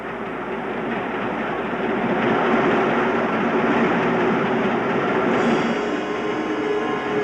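A train rumbles along steadily, wheels clattering on the rails in a continuous, fairly close roar with no voices.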